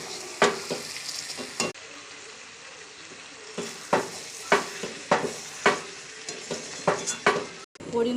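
Chicken kosha sizzling as it fries in a pan, with repeated scraping strokes of a spoon stirring it, sharp irregular scrapes over a steady close hiss, no talking.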